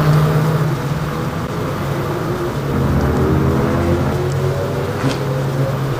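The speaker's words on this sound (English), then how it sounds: "Well, his car's idling." A GT1-class race car sits idling at Spa-Francorchamps in a racing game, a steady low engine drone with a faint tonal hum that carries on evenly throughout without any revving.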